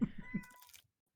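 A cat gives a short, fairly faint meow with a few low murmuring tones before it, then falls quiet.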